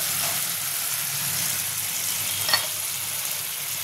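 Green chillies sizzle in hot oil in a pan for a Bengali hilsa fish curry, a steady close frying hiss with a brief louder crackle partway through.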